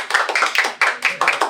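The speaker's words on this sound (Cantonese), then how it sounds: "再俾啲掌聲" A small live-house audience in a record shop claps for a harmonica guest, with about ten crisp, close claps in quick, slightly uneven rhythm and no talking.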